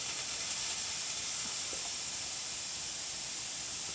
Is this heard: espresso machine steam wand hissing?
yes